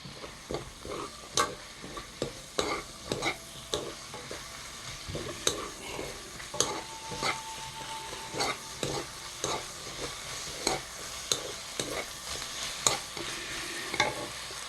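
Korean fish cake (eomuk) fries in oil in a pan with a steady crackling sizzle, punctuated by repeated close taps and scrapes of stirring, no talking.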